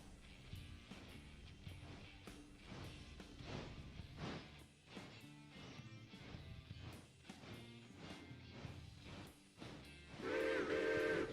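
A steam locomotive whistle, the Hooter from CNO carried by engine 1309 in the railroad game Railroader, sounds loudly over rhythmic chuffing and rolling rail noise, with a strong chord-like blast near the end.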